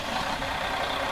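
Steady, loud mechanical rumble of a Desiro diesel train's engine running in the Train Simulator 2016 game, an even drone with no pauses and no talking.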